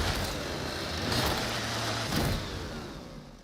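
A chain axe revs in Warhammer 40,000: Darktide, a loud, buzzing motor whine that swells and grinds for a few seconds before tapering off, with no voices.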